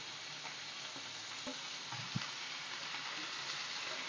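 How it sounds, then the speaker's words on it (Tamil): Onions, dried red chilies and ginger frying in oil in a pan, a steady close sizzle with a few small pops and a light clink of a utensil. "வெங்காயம் அப்புறமேட்டு வரமிளகா எல்லாத்தையும் போட்டு நம்ம நல்லா ஃப்ரை பண்ணலாம்"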